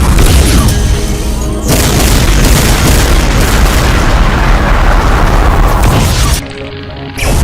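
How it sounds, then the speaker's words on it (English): Massive spread of BFG 9000 shots from a Doom mod video game detonating together, a loud continuous barrage of booming explosions and roaring blasts that fills the clip, cutting out briefly near the end before resuming. "a massive spread of BFG 9000 shots"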